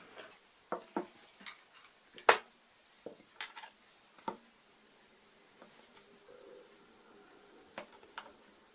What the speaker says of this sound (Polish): pokroję ser